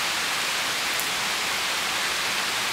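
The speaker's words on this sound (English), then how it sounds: "It seems like the rain is slowing down a bit." Steady, even hiss of rain falling, a dense wash of patter with no pauses, fairly close and constant throughout.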